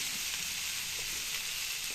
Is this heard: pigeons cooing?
no